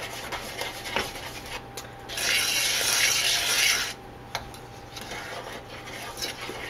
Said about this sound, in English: So you just pretty much stir. Keep stirring.